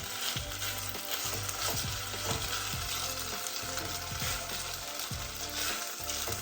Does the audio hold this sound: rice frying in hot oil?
yes